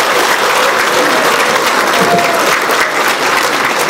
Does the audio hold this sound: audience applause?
yes